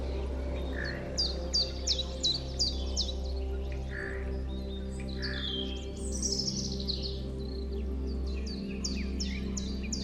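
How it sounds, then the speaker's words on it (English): Robins sing in a spring setting with blossoming trees, clear repeated chirping phrases over a steady low hum, moderately distant and fairly faint. "Robins."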